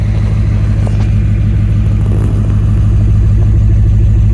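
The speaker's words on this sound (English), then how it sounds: "With them open, you just get a little bit more rumble" A 2008 Lexus LS460 with its electric exhaust cutouts open idles with a loud, steady, deep low rumble, close and continuous, with slight pulsing throughout.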